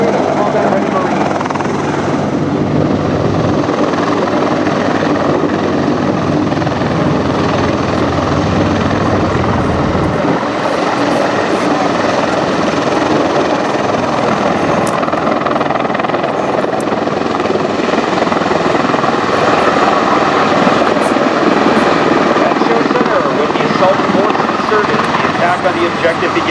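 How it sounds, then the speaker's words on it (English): A CH-53 Stallion Marine Corps military helicopter carrying a Humvee at an air show demonstration, its loud steady rotor and turbine roar filling the whole stretch, with a deeper thump joining partway through. "The CH-53 Stallion is the largest and strongest helicopter in the Marine Corps."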